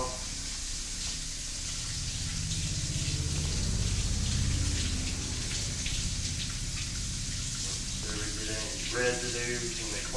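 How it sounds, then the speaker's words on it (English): Water runs steadily from a tap while knife scales are rinsed, a close, even hiss with some dripping, followed near the end by a few brief clinks and splashes. "Let's rinse them off."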